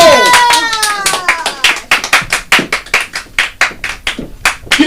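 A comedy club audience claps live, starting with a few scattered hands and settling into a sharp, evenly spaced rhythmic beat, loud and close, with a voice briefly audible at the start.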